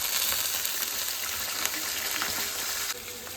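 Wet potato pieces dropped straight from water into hot oil burst into a loud, dense sizzle and crackle that holds steady, then eases slightly near the end.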